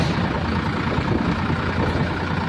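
A tractor engine runs steadily on a farm track heading up toward a hillside field, a continuous low rumbling drone that stays close and even throughout with no talk.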